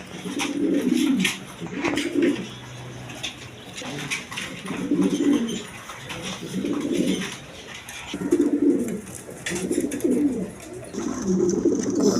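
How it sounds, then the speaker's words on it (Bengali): A pair of domestic pigeons kept for sale, a breeding pair including a black beauty, coo close by in low, throaty rolling bouts, about seven of them in a steady rhythm with short pauses between, against faint background noise. "দর্শকবিন্দু এখানে এক পেয়ার কবুতর আছে"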